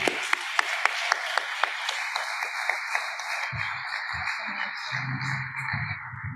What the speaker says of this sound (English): can you please give the biggest round of applause for Alexandra?